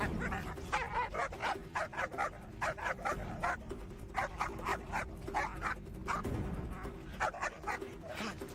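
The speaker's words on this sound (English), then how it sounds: "Cesar was called by Julian to help with his best friend's dog Veda" A dog barks repeatedly in quick irregular bursts, mixed with whimpers and high yips, fairly close and loud throughout.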